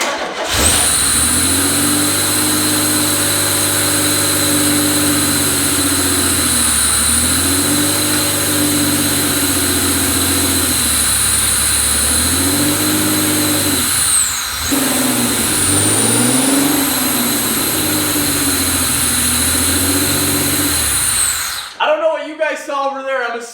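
An abandoned lowrider car's engine cranks, starts and keeps running, loud and near, swelling through repeated revs with a steady whine on top. It cuts off abruptly near the end.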